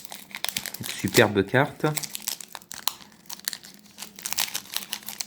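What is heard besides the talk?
Pokémon booster pack wrappers crinkling as they are torn open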